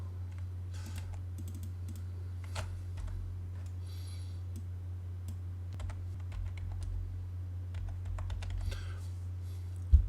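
Keys on a computer keyboard being tapped to enter an AutoCAD shortcut command, a scattered run of light clicks with brief pauses over a steady low hum, no voices.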